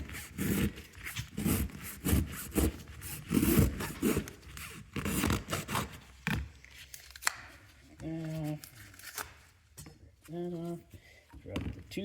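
A used Fram oil filter is cut open with a tool, giving rough, repeated rasping and scraping strokes of metal, loud and uneven, with someone briefly talking between the cuts.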